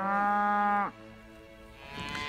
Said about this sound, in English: These are your classic longhorn cattle.